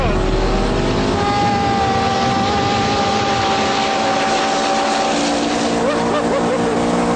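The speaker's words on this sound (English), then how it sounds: "So we can nail the throttle and then release." The fastest street-legal car launches at full throttle, a loud, continuous engine roar with rising pitch, close and overpowering, with wind noise mixed in and no break in the sound.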